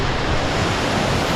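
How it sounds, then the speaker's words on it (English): Waterfall near Medellin in the rainforest, a loud steady broadband roar of rushing water filling the whole moment without break. "take a glimpse of that waterfall before we run away"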